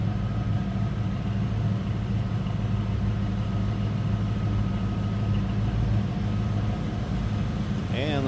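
A 1991 Ford Mustang LX convertible with the 5.0 V8 and dual exhaust idles steadily from behind the car, a close, even low rumble that holds throughout with no revving.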